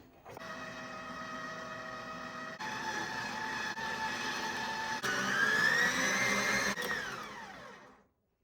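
KitchenAid stand mixer whipping chocolate frosting at speed 8, a steady close whining motor hum with strong tonal drone that rises slightly in pitch before cutting off abruptly near the end.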